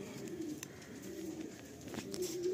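Andhra Fulsira pigeons give soft, low, continuous cooing, fairly quiet and close, with a few faint rustles around them.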